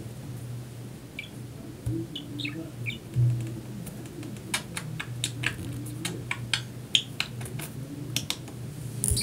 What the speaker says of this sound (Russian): Прошу простить меня за шумы на заднем экране, потому что у меня там попугай.